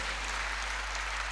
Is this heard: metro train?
no